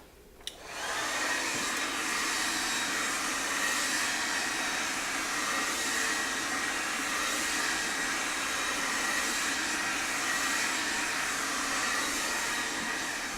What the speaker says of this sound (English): So I'm going to go through her hair now and just dry it with the brush to get it a little softer.